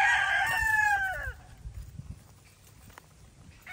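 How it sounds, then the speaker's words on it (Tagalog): A Pure Goldenboy Sweater gamefowl rooster crows loudly once at the start on a game farm, the call trailing off, followed by quieter rustling and shuffling. "Pero magandang manok."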